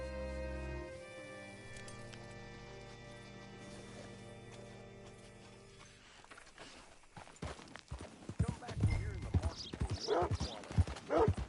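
Horse hooves clop in a quick rhythmic patter in a video game, growing busier and louder toward the end, after a steady tonal drone fades out.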